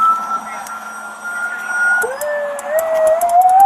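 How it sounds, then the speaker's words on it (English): An alternating police-style siren on a pickup truck fitted with aftermarket emergency lights sounds continuously and fairly loud, its pitch shifting between two tones partway through, with no talking. "it has a functioning siren to go with the lights, alternating sirens."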